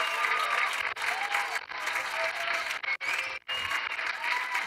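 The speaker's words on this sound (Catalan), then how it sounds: "Si us plau, rebem amb un fort aplaudiment a Mariola Dinarès." Sustained applause from an audience at the M-School Student Awards 2022 ceremony, steady dense clapping for several seconds with a few brief dips, fairly close and loud, with no talking over it.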